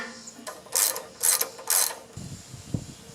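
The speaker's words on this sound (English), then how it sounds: "I'm going to pull the spark plug out, put a little fogging oil in there." A small engine's spark plug being worked loose with a ratchet wrench gives three short, bright clicking bursts in quick succession, close and quiet, followed by a faint handling clunk.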